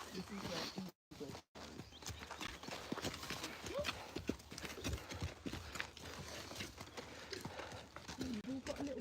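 Black Friesian horses at morning feed time in a stable, hooves clopping and shuffling with occasional snorts and movement, while someone talks to them throughout at close range.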